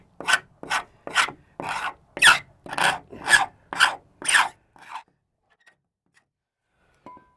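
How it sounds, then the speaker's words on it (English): Paint being scraped off a wooden window frame around a repair area, heard as about ten steady rasping strokes in a regular rhythm, close and fairly loud, followed by near silence with a faint click at the end. "we have to scrape off 20mm of paint from around the repair"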